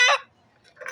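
Two short, close clucks from chickens, a sharp call followed by a softer one after a brief pause.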